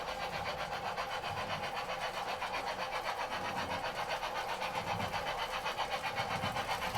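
A DCC model train rolls along a track past an automatic passing siding, giving off a continuous low, rhythmic clicking rumble at a moderate distance with no voices.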